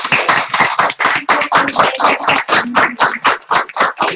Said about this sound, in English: on behalf of Central Elementary, let's give a round of applause, please.